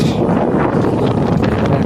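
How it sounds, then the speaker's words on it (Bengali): Strong wind roars and buffets the microphone continuously, a loud steady rumble with no other sounds. "আজকে প্রচণ্ড বাতাস"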